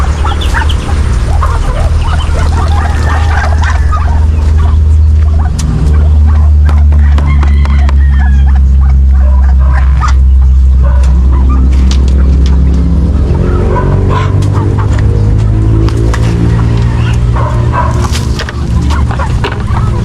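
Backyard chickens and ducks on a small home farm cluck and squawk loudly and continuously, with a low engine-like rumble underneath and occasional speech.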